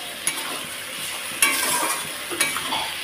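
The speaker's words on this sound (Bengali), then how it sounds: "তো দেখো ভালোভাবে কষিয়ে নিচ্ছি" Drumsticks and potatoes being sautéed in a pan, a continuous loud sizzle broken by a few sharp stirring scrapes.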